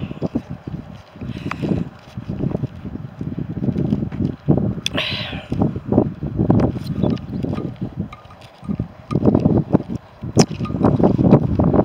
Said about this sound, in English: The camera's got to cope with the wind at the moment.